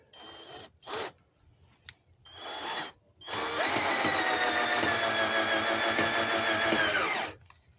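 Power drill driving screws into a wooden gate, a few short bursts of whirring followed by one long, steady drive of several seconds, close and loud with no talking.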